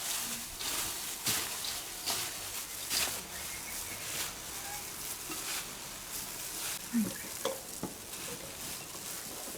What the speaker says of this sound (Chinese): 现在加一点调料拌起来，多来一点盐，花椒面，拌起来